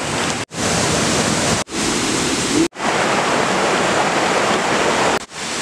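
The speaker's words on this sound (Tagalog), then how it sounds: "Kusog tubig." A powerful waterfall on Biliran Island roars as a loud, continuous rush of water, broken only by a few abrupt cuts.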